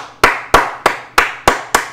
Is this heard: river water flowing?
no